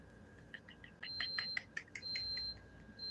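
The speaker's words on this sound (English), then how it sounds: "As the alarm goes off" An electronic alarm goes off in a run of short, shrill beeps and chirps with a thin steady tone, moderately loud and close, with no talking.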